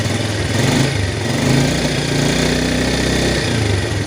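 A motorcycle engine, its headlight under repair, runs loud and close with a steady mid-pitched throb and a slight rise as the throttle opens, no talk over it.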